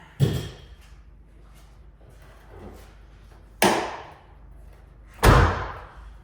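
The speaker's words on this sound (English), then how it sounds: "Shut the door." A door slams shut with a heavy wooden bang, followed by a softer thud and then two more loud slams.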